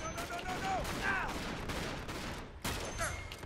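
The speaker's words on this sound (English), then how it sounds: "He's shooting at me." Gunfire in an Uncharted 3 online match, repeated shots and bursts of fire with whizzing ricochets, loud and close, with a voice faintly mixed in.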